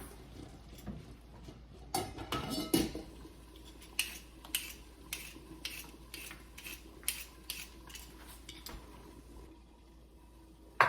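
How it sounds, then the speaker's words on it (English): A knife taps repeatedly on a cutting board chopping carrots and vegetables in a quick, uneven rhythm, soft and close, with faint clinks in a quiet room. "Just chopping up the vegetables now."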